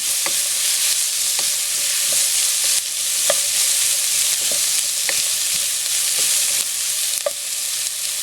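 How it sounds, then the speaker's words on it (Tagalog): Ingredients for sotanghon soup are sautéed in a pan, giving a loud continuous oily sizzle with regular scraping stirs of a utensil against the pan, close up with no talking. "Okay, gisahin po natin."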